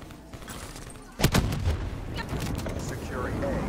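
A Hellstorm missile strike in Call of Duty Black Ops 3 lands with a sudden loud blast and cluster of sharp impacts, followed by lingering rumbling and scattered pops, with faint game voice in the mix.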